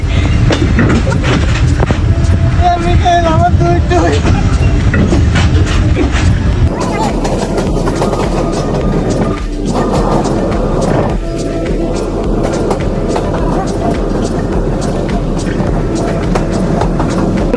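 Loud, continuous rumble of a train running on rails, with rhythmic clacking and rattling throughout, and voices faintly audible underneath.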